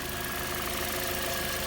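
A Toyota dual VVT-i engine idles steadily, a continuous low rumbling hum with a faint rhythmic knock, close by, with no talking.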